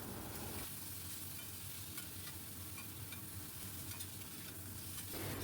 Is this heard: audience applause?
no